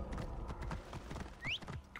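Horse hooves clip-clop in Assassin's Creed Origins, a quick run of steady hoofbeats with a creaking, mechanical undertone and a brief rising whinny-like tone near the end.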